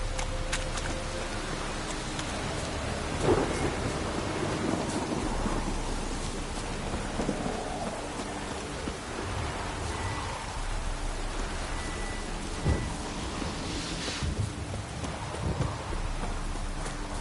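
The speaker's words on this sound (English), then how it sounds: "A storm, damn it." Thunderstorm in The Witcher 3 game world: steady heavy rain with rolling thunder rumbles, a sharp crack near three seconds and another near fourteen, with faint hoof-like clopping underneath, no speech.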